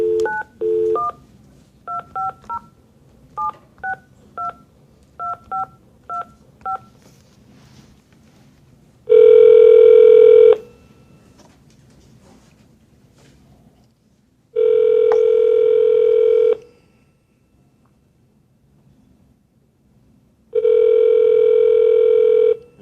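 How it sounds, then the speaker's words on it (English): A telephone number is punched in as a quick run of short touch-tone beeps, then a steady ringback tone sounds in three long bursts separated by silence, loud and close with no talking. "Let me just dial Mike in here."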